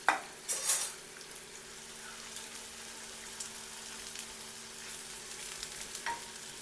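Thinly sliced onions frying in oil for Malabar chicken biryani, a steady hiss and sizzle opening with a few loud bursts of crackling and spoon scrapes against the pot, no speech.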